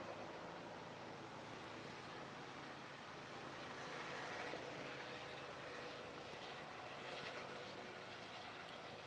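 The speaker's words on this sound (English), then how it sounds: "They got a helicopter passing." A distant helicopter passing overhead, heard as a faint, steady, broad rushing drone that stays level and continuous throughout, with no talk over it.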